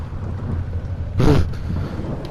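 Wind gusting in the horror game Amnesia, a low rushing storm ambience with a louder thundery surge in the middle, steady and alone without voices.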